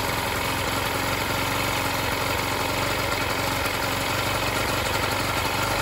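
A small single-cylinder motorcycle engine idles unchoked, a steady, even running note that holds at a constant level throughout with no talk over it.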